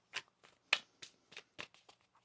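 Tarot cards being shuffled by hand, a series of about nine short, crisp riffling bursts at an uneven rhythm, close and fairly quiet, with no talking.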